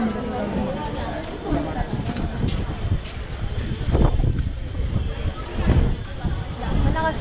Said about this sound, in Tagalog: Malakas naman ang hangin.